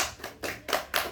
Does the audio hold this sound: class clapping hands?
yes